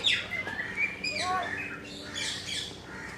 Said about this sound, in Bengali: এগুলো হচ্ছে ময়না পাখি